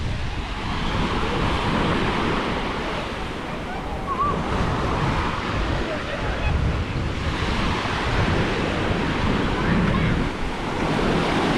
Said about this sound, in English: So there's a lot of waves here and a lot of rocks.